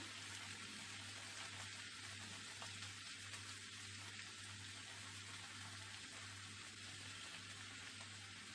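Fresh coriander leaves sauteing in a pan for an egg vegetable pulao, a faint, steady sizzle with an even hiss and a low constant hum underneath, no talking.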